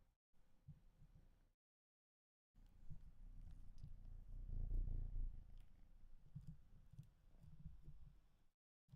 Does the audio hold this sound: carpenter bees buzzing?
no